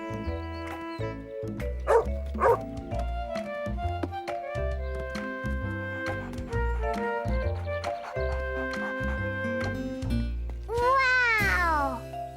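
Cartoon dogs barking and yipping in short playful bursts over a steady animated-series music bed, with a rising whistle-like sweep near the end; no one speaks.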